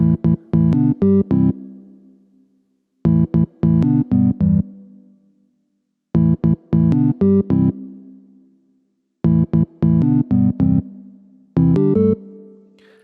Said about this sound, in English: Notice this really clicky sound at the beginning of each note